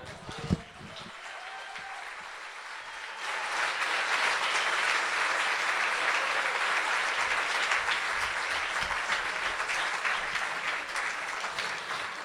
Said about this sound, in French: vous pouvez faire du bruit en tapant dans les mains ou en huant